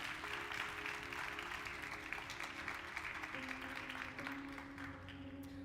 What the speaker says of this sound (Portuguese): Dê um aplauso ao Senhor por isso nessa noite.